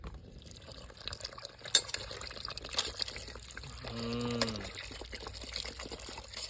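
Water is poured into a cooking vessel outdoors in a village kitchen while sweet tomato pachadi is being made, a short gurgling pour in the middle among faint clatter and background noise.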